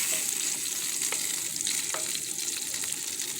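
Risotto rice being stirred in a hot pan with broth, a constant close sizzle and bubbling with faint scraping strokes of the spoon, steady throughout with no talking.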